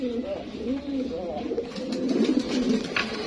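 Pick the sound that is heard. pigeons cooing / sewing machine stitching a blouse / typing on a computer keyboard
pigeons cooing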